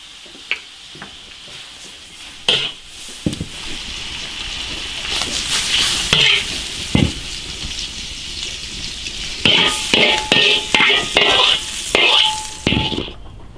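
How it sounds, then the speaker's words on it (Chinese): Pork stomach is stir-fried with garlic, pickled chilies and green and red peppers in a large iron wok, giving a steady loud sizzle broken by repeated metal scrapes and clanks of the spatula against the wok. "爆炒，起锅。"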